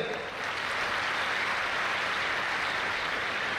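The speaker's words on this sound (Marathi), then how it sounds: "डॉक्टर अशोकजी महाजन यांचे टाळ्या वाजवून तुम्ही आतिथ्य करायचं" Steady applause from a crowd welcoming the pro-vice-chancellor at the opening ceremony of a university youth festival, a continuous dense clapping sustained throughout.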